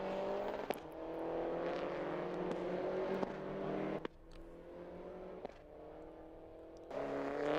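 Peugeot RCZ race cars at Magny-Cours on the final lap, engines roaring loudly and steadily with shifting revs and gear changes, several brief pops and dips as cars pass close by.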